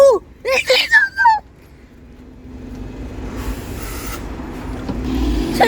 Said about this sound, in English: so this bus will be a spare bus in the bus yard